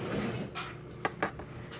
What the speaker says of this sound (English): I take a butter knife